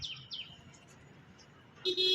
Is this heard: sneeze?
no